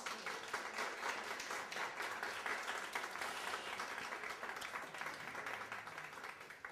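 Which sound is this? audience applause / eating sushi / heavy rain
audience applause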